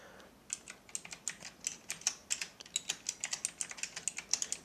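Fast, close-up computer keyboard typing while writing code in Unity, bursts of crisp key clicks in an uneven rhythm with brief pauses, nothing else heard.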